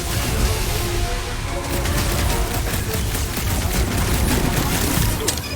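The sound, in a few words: gunfire in a Marvel superhero video game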